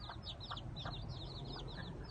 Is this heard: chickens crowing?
yes